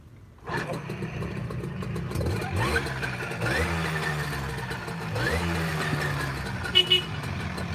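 A TOMOS moped engine cranks into life and settles into a steady, buzzing idle with a few revving swells, close and loud, with brief talking over it.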